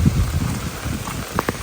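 Rain falls steadily at a forest campsite in a recreation area, a soft continuous patter with a few nearer drops tapping on a surface.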